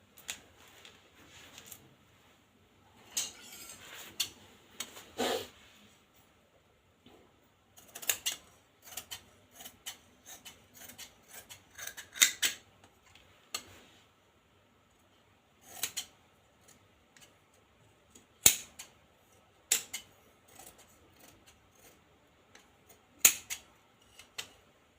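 Scissors snipping through blouse fabric at close range, in quiet irregular bursts of short crisp cuts separated by pauses.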